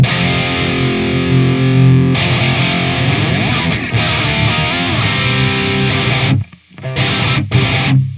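Electric guitar played through a distorted TONEX amp preset with gain at halfway, a thick, saturated crunch of sustained chords and bends that rings loud and steady before briefly cutting out near the end.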